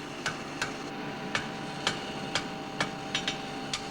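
White-hot metal ends are hammered together in forge welding, giving sharp, fairly faint hammer strikes in a steady, roughly regular rhythm, about eight blows, with no talking.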